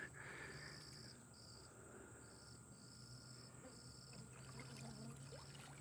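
Faint outdoor insect chirping in a steady pulsing pattern, repeated high trills with brief gaps, over a quiet background hum.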